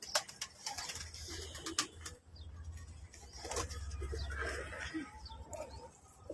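Lakha pigeons cooing and flapping their wings at a pigeon loft, with soft low coos and bursts of wing flutter close by over faint background noise.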